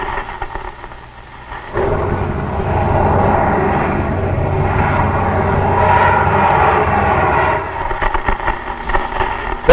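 A propeller aircraft drones steadily as it nears an air base in a 1950s television drama, a loud, sustained rumbling roar that swells in after a brief quieter start and holds evenly, easing slightly at the end.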